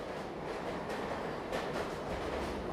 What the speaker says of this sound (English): Sound of trains rise.